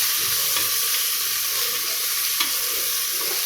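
Ginger garlic paste frying in a pan, a steady bright sizzle with soft scraping as it is stirred, close and constant throughout.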